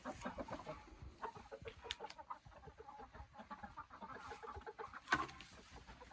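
Hens cluck and murmur softly in a continuous, irregular chatter, with one sharper squawk standing out near the end; fairly quiet, close by.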